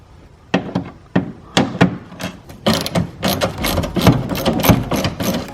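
A ratchet works on 8mm screws behind the tire of a BMW E90, giving a series of close clicking ratchet strokes and clunks that start spaced apart and then quicken into a dense run.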